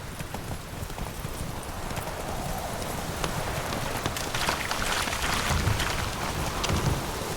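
Geralt's horse Roach trots in The Witcher 3 on Xbox Series X, hooves clip-clopping in a quick steady rhythm over a dense wash of rain, with a faint low rumble in the background.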